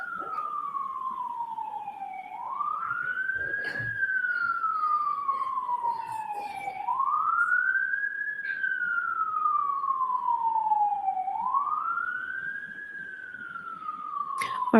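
Emergency vehicle siren wailing in slow, smooth rising and falling sweeps that repeat steadily, clear and moderately loud against a low background rumble, with a few faint clicks.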